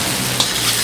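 Onion and tomato frying in mustard oil during roadside cooking beside a highway, a steady, loud, close hiss of sizzling with no talking.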